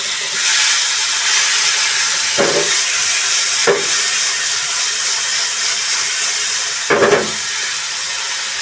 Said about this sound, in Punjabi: ਪਨੀਰ ਨੂੰ ਅਸੀਂ ਉਨੀ ਦੇਰ ਤੱਕ ਪਕਾਵਾਂਗੇ ਜਿੰਨੀ ਦੇਰ ਤੱਕ ਇਹ ਥੋੜਾ ਜਿਹਾ ਡਰਾਈ ਨਹੀਂ ਹੋ ਜਾਂਦਾ